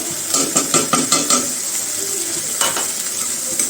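Spice masala and meat fry in a pan with a loud, continuous sizzle. A quick series of sharp utensil scrapes and taps from stirring comes early, and a few more knocks follow later.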